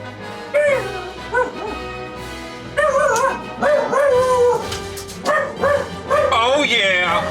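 A dog barks and yips repeatedly in short bursts, fairly close and loud, several clustered barks with brief whimpering tones between them.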